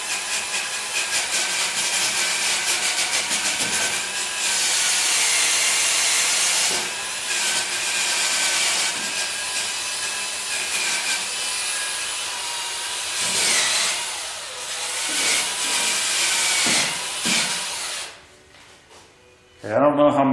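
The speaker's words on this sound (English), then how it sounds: "So I've got a wire wheel on a drill." A wire wheel spun by a drill scrubs rusty bolt threads while removing exhaust headers, giving a loud, continuous abrasive hiss for nearly twenty seconds that shifts in pitch as pressure changes, then drops off at the end.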